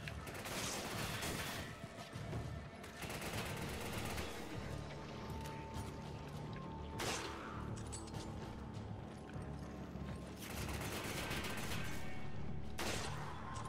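Machine gun fire in the Resident Evil 5 video game: sustained rattling bursts over a continuous low din, with a few sharp, heavier blasts punctuating the fusillade at intervals.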